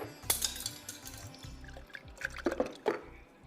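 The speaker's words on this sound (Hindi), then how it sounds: "इसमें थोड़ा सा पानी डाल देते हैं" Water poured over ice into a drink in a kitchen, with splashing and trickling plus a few sharp clinks of ice against glass, close and fairly soft, with no voices.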